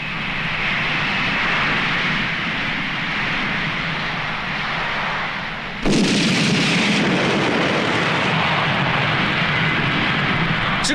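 Cartoon explosion as bandits blow up their own hideout in a 1993 Shanghai Animation Film Studio gangster cartoon with animal characters, a loud sustained rumbling roar that surges sharply about halfway through and stays dense to the end.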